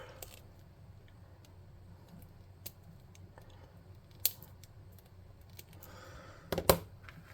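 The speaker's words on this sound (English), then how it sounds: "Let's cut these little nubs off." Small nubs are snipped off a hobby model with scattered, faint clicks of a cutter over quiet room tone, ending in a sharper cluster of snips.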